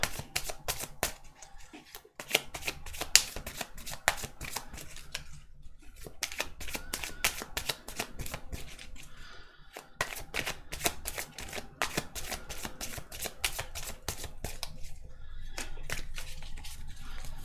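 Tarot cards are shuffled close up in quick riffling bursts, sharp crisp flutters repeating with brief gaps over a quiet background.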